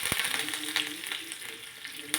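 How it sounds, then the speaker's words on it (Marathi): Curry leaves and green chili crackle in hot oil for a tempering for chukauni, a steady close sizzle with sharp pops at the start and end. "मस्त अशी कडकडीत फोडणी बनवलेली आहे"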